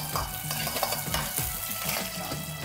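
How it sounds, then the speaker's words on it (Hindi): Dried chillies sauté in a hot pan for dragon chicken, giving a steady, close sizzle with stirring scrapes and light utensil knocks throughout, with no talk. "इसमें थोड़ा सूखा मिर्ची इधर है। ये इसको थोड़ा सौते करना है।"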